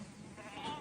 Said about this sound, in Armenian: Բացում եմ ցանկապատի դուռը եւ ոչխարները գնում են արածելու